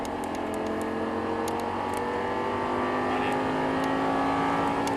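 An Audi R8 racing car engine in the Assetto Corsa video game, at Paul Ricard circuit, holds a steady high whine that climbs gradually in pitch as it accelerates, continuous and fairly loud, with a faint synthetic edge.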